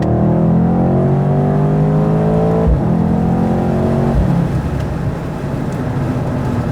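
A 2019 Mercedes-AMG C63 S accelerates hard from 50 mph, its engine note climbing steadily in a loud, rising drone, then easing into a rougher road and wind roar after a shift.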